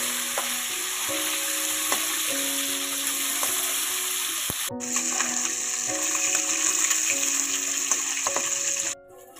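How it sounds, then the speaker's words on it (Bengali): Tilapia pieces fry in hot oil in a pan, giving a continuous loud close sizzle with steady tonal hums beneath, a brief break midway and a sudden stop at the end. "এখানে মাছটা খুব সুন্দরভাবে ভাজা হচ্ছে"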